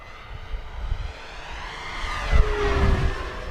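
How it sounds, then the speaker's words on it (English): An FMS T-28 1400mm radio-controlled airplane makes a fast low pass, its electric motor whine rising and sweeping past with a clear pitch shift, loud and close, with no talk. "Let me bring it by fast here"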